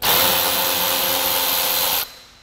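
A power drill drives a screw into a Honda Pilot rear bumper near the mud flaps, a loud steady high whir for about two seconds close up that cuts off abruptly, leaving quiet.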